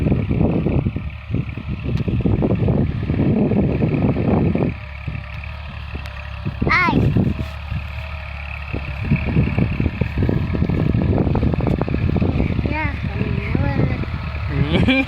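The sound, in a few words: Kubota 36 horsepower farm tractor running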